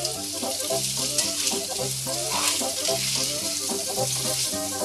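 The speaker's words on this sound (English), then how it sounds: "now I'm going to add my potatoes. I drained them pretty well." Drained potatoes hit a hot pan with a loud, continuous sizzle and crackle, with stirring scrapes over the frying noise.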